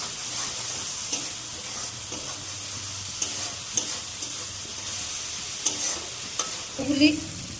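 Spice paste frying in a pan for a Bengali shing fish curry, a soft continuous sizzle with occasional scrapes and taps of a spatula as it is stirred, close but fairly quiet.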